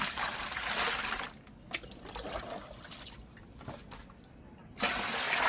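Water poured into a bucket from a tap to dilute mustard-cake fertilizer, a steady rushing fill that drops briefly and then surges loudly again near the end, with no talking.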